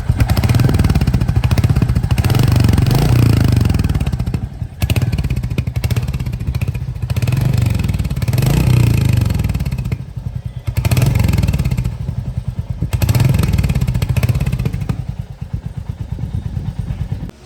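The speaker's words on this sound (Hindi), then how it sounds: "फर्स्ट स्टॉक एग्जॉस्ट का साउंड सुनते हैं।" Royal Enfield Hunter 350 motorcycle with its stock exhaust, running close and loud with a deep steady thumping beat, the revs rising and falling in repeated swells.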